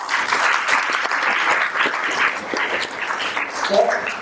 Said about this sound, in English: So a big round of applause to Kedia sir.